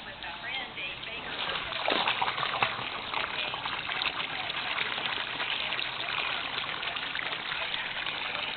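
Creek water pumped up from a creek pours into an outdoor pool with a continuous splashing gush, close and fairly loud, growing briefly stronger partway through.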